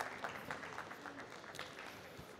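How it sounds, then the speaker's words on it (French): Faint applause for the judges from a small audience at a barista competition semi-final, a soft patter of clapping heard from a distance. "Un petit applaudissement pour eux parce qu'ils font un boulot extraordinaire"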